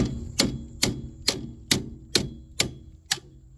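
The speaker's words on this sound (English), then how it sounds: "grab a hammer, and just tap it out." A hammer taps a splined bolt out of a car axle hub on a 2004 Chrysler Sebring 2.4L, seven sharp metallic strikes at a steady, evenly spaced rhythm, close and clear with no talk.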